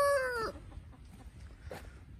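Chickens on a farm give a loud crowing, clucking call in the first half second, followed by fainter scattered clucks and rustling at a distance.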